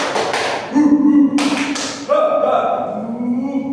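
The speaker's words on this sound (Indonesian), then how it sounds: "Jadi nanti tepuk semangatnya gini. Tepuk semangat." A group performs a rhythmic 'tepuk semangat' spirit-clapping chant, with sharp claps in quick bursts mixed with voices calling along, fairly close and loud.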